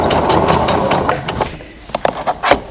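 A small sewing machine hums as it stitches along the bottom of folded towel layers for a face mask, then stops, followed by a few sharp mechanical clicks and taps.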